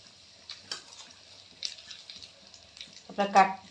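Whole garam masala and bay leaves frying in hot oil, a thin steady sizzle with a few crackling bursts, the loudest near the end, close up with a voice speaking over it.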